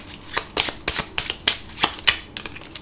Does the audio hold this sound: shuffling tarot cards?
yes